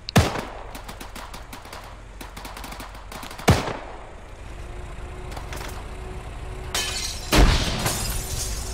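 A shotgun in Arma 3 fired at a window, with loud sharp blasts at the start, near four seconds and past seven seconds, glass shattering and faster distant rattling shots in between.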